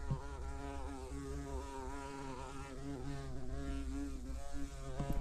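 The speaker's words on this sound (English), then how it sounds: "Jeez, can you hear that bee?" Bee buzzing loudly near a workshop where a two-stroke motorcycle is being repaired, a steady droning hum with wavering pitch that holds close and continuous throughout.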